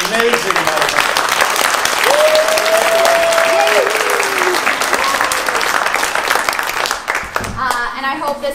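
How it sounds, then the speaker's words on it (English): Loud sustained audience applause at a high school CreatAthon event, dense clapping filling the room with a few cheers mixed in, tapering off near the end as a voice speaks. "the biggest round of applause should go to Eleanor"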